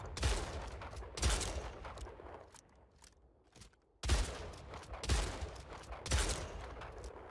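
Shotgun blasts in the video game Splitgate, five heavy booming shots spaced about a second apart with a pause midway, each leaving a short decaying tail, loud and alone.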